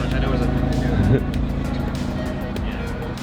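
A Mazda Miata sports car engine rumbles steadily and loudly nearby, with a low throaty growl and voices talking over it.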